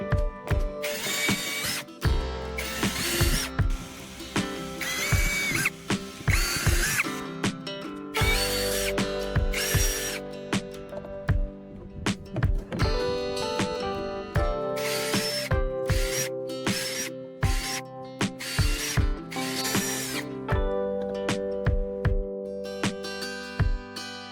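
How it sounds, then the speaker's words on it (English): A power drill whirs and grinds in repeated bursts through plastic, pausing and restarting with clicking ratchet sounds, boring holes up close. "Would you have drilled the hinge holes before cutting"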